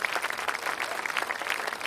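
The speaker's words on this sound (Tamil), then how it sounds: "நம்மளோட சவுண்ட் சந்தியா அவங்களுக்கு கைத்தட்டல் கொடுத்துடலாம்" Audience applause for a performer named Sandhya at a Tamil stand-up comedy stage show, steady dense clapping from a crowd throughout with no talk over it.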